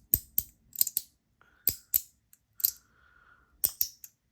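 A fidget toy gives a string of sharp, close clicks in irregular bursts, some single and some doubled, with quiet gaps between them.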